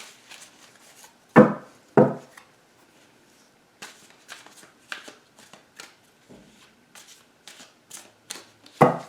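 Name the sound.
tarot cards being shuffled and cut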